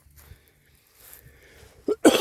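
A man outdoors on a walk with a metal detector gives a short, harsh cough. Faint rustling comes first, then a couple of abrupt bursts close up at the end.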